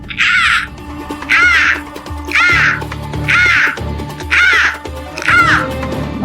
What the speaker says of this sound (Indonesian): burung ababil yang diutus Allah Subhanahu wa Ta'ala untuk menghentikan pasukan Abraha menghancurkan Mekah